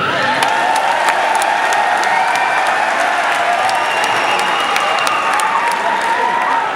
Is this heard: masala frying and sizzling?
no